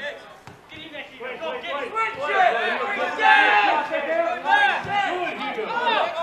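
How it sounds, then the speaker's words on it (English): Spectators at a South Hobart versus Olympia football match shout and call out to the players, a dense mass of overlapping voices rising and falling continuously throughout. "You can hear the calls from the crowd to take the ball out the other side"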